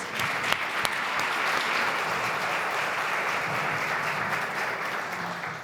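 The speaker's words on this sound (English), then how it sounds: "Can we please give another round of applause, please?" Sustained applause from a large crowd, steady and dense throughout, with a few sharper claps near the start.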